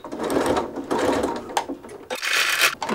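A sewing machine stitches a seam on fabric for a drawstring tote backpack, running in quick close bursts broken by short pauses over a few seconds.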